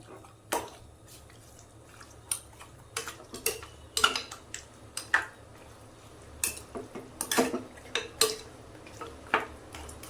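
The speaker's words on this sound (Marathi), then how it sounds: "हे आपण मस्त पैकी हलवून घेऊया" A spoon scrapes and clinks against a metal pot of mutton curry in irregular bursts, quiet and close, with soft stirring between the taps.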